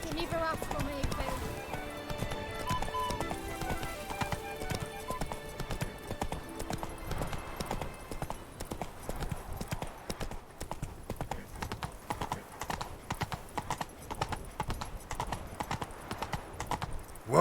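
Roach the horse's hooves clip-clop at a gallop across the ground in The Witcher 3: Blood and Wine, a steady close rhythm running under layered orchestral music, with a voice speaking over it.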